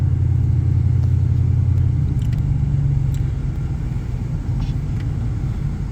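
A 1998 GMT400 pickup truck engine runs with a loud, steady low rumble heard from inside the cab, easing slightly in level as the truck rolls on, with no talk over it.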